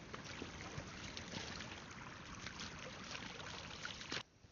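A forest stream flows in a steady, close rush of water with a fairly faint, even texture, ending in a brief knock.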